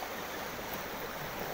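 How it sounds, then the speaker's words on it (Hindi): A stream flows in a quiet, secluded natural setting, giving a steady, even rush of water with no distinct splashes, unbroken and without voices. "बहते हुए पानी के नज़दीक बैठें और बहते हुए पानी में अपने ध्यान को एकाग्रचित्त करके उसे सुने"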